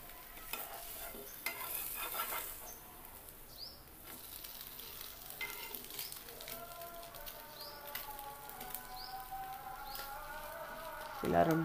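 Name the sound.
sweet egg bread omelette frying in pan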